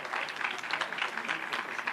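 Audience applause at a Colombian government event where a national development plan bill is presented, a steady wash of many hands clapping at moderate level, dense and continuous without voices over it.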